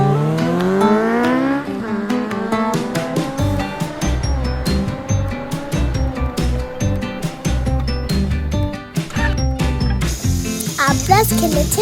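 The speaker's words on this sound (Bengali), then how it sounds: "এখন আমি খেলছি রেসিং গেম।" An arcade racing video game in a children's indoor play zone in Lalbagh, Bangladesh, plays loud, continuous synthetic engine whines that rise and fall along with game music, while a voice is heard in the crowded background.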